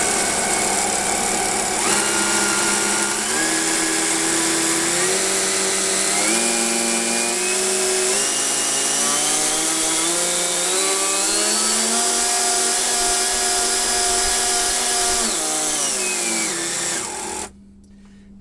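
A brushless motor in a Super Hawaii model boat, converted from two brushed motors, runs loudly and close up, its whine stepping up through rising pitches toward full throttle before winding back down and cutting off.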